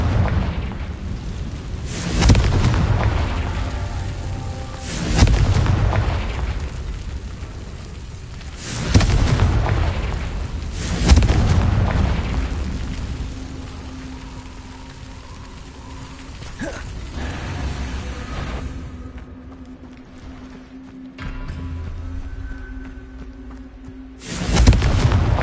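Confringo fire spell blasts in the video game Hogwarts Legacy, a series of loud booming explosions at regular intervals, each followed by a rumbling decay, with quieter creaks and game ambience between them.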